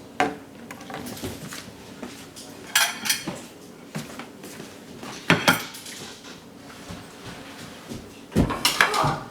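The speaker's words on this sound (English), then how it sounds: "And I'll do my dishes." Pots, pans and cutlery clink and clatter while dishes are washed in a home kitchen, with scattered bursts of clanking, a few louder knocks and steady, moderately close activity.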